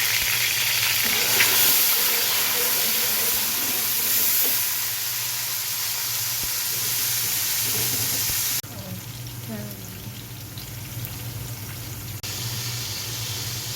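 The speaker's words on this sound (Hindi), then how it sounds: "ये प्याज और टमाटर डाल के इसको भून लेंगे अच्छे से।" Onion and tomato sizzle in hot oil in a pot for kadhi pakora, a steady close crackling hiss that softens slightly partway through, with faint stirring noises.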